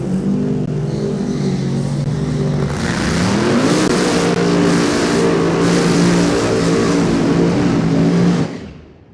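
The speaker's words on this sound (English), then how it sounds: "just the slightest difference in how much noise these two cars make" Loud drag racing car engines roar and rev steadily on the line, then surge harder as two cars accelerate hard away, the roar sustained and close before cutting off abruptly at the end.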